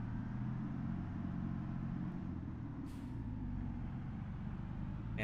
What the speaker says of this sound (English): Man, I love the sound of this tractor.